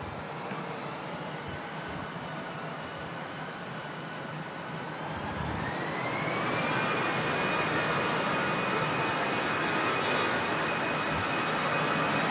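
An EasyJet Europe jet departs on runway 23 left at Manchester Airport, its engine roar building into a loud, steady rushing whine with a rising tone, heard from a distance and continuing without talk.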